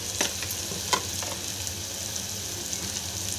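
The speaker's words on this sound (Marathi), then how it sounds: "आता कांदा लसूण मसाला टाकूया" Onion-garlic masala frying in a pan for a spicy black pea amti, giving a steady, close sizzle broken by a couple of sharp utensil clinks.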